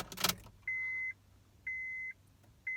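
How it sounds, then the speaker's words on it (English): In a 2007 Honda Odyssey, keys jangle briefly at the start, then three evenly spaced, steady electronic chime beeps ring out clearly in a quiet cabin. "So first, we'll turn on the car."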